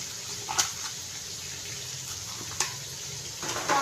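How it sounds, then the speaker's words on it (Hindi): Water poured into a pot of frying spices and salt while cooking a dal chicken dish, heard as a faint, steady splashing trickle with a few brief louder splashes. "थोड़ा सा हम पानी डाल देते हैं, ताकि हमारे मसाले जले नहीं।"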